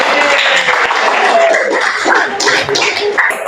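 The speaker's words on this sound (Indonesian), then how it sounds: "Tepuk tangan dulu." A classroom of students claps together during a teaching practice lesson, a dense, steady patter of hand claps that fills the whole stretch at close range, with faint voices mixed in.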